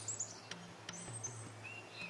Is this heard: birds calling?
yes